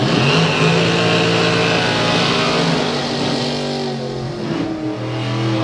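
A Camaro drag race car in the Supergas class launching at a drag strip, with a loud, sustained, roaring engine that holds steady and close throughout.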